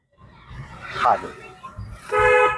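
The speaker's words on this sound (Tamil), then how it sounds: "இப்படி அடிக்கணும் ஹார்ன்" A car horn honks twice, short toots with a steady tonal blare, the second one louder and longer, over low engine rumble.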